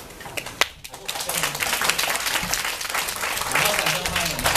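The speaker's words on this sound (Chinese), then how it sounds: "现在我们用热烈掌声，赶快介绍海硕上来" Warm applause from an audience at a speaking event welcoming a guest onto the stage, steady dense clapping building slightly, with a voice heard briefly near the start.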